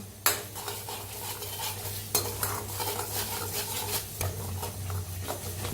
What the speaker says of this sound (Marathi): कढीपत्ता हलवून भाजूया आपण.